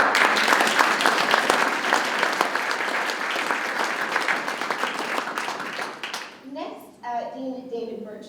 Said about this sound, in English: So if we could just give a round of applause.